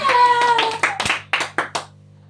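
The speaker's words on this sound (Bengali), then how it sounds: "তার জন্য একটা হাততালি দাও সবাই।" A few people clap for Sakib during a bottle-flip candy game, first a short burst of clapping mixed with voices, then several separate loud claps that trail off, leaving a quiet background.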